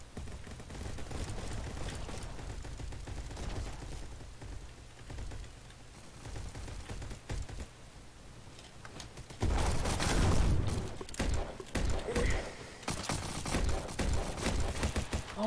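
Loud gunfire from nearby players in a shooter video game, with rapid rattling bursts and booming shots that build into a dense, heavy barrage partway through.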